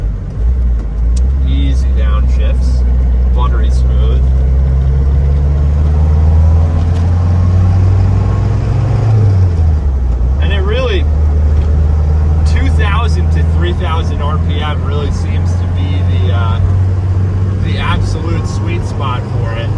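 A 1992 Range Rover Classic 2 door drives with a steady low engine drone, revs dipping smoothly through a downshift midway, under ongoing talk inside the cabin.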